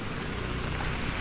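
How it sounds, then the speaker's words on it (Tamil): Heavy rain pours onto a road near a bus stand with parked vehicles, making a dense, steady hiss with no break and no voices. "கட்டம் மழை பெய்யுது பாருங்க."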